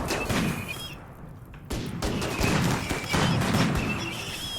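Explosions in RimWorld, a burst of sharp cracks and thuds in rapid, irregular succession, loud and dense, with a brief lull before more blasts follow.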